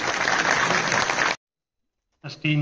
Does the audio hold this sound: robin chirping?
no